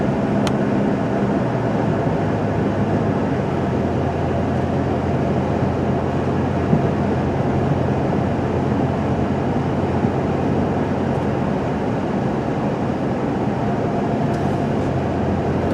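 Steady road and engine noise from a 2001 Dodge Grand Caravan Sport minivan cruising at up to 50 mph, a continuous even low rumble with faint tire hiss and no talking.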